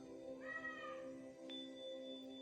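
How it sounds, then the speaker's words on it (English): A house cat gives a single drawn-out meow over a steady background hum, fairly soft and alone, with no talk during the call. "Right, Luna, the meditation cat?"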